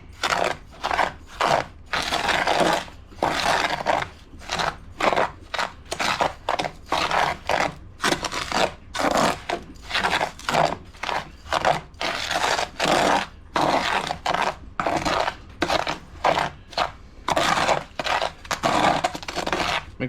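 Sand mixed with flaked wax is stirred in a pot on the stove, giving rhythmic gritty scraping strokes, steady and close, repeating in quick bursts with short pauses between them.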